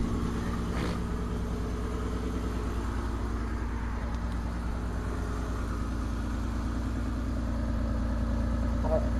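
A 1980s-era Eagle Premier car engine idles steadily after a cold start following two months of sitting, a constant low rumble close to the microphone with no breaks.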